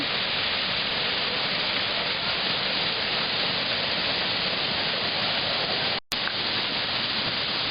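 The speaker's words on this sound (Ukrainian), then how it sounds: "Ми зараз знаходимося десь посередині водоспаду" Zhenetskyi waterfall, a dense unbroken rush of falling water at steady loudness, briefly cut off by a short gap near the end, with no voices.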